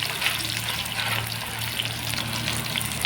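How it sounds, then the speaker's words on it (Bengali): Chopped onions fry in hot oil in a wok for a country chicken curry, giving a steady, close sizzle with a constant crackling hiss and a low hum underneath. "পেঁয়াজ কুচি দিয়ে পেঁয়াজটা হালকা ভেজে নেব"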